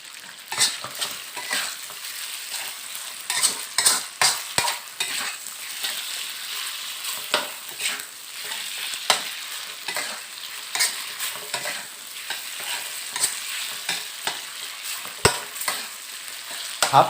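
Marinated pork stir-frying in a pan, a continuous loud sizzle broken by repeated clattering scrapes of a spatula tossing the meat, close up with no talk.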